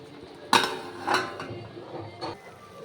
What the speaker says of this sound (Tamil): மூடி போட்டு வேக வச்சிடுறேன்.